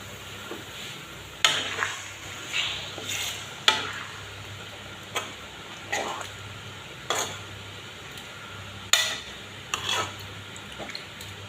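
Paneer is stirred and fried in a pan, with a soft sizzle under repeated scraping strokes of a spoon against the pan at an uneven, unhurried pace. No one talks.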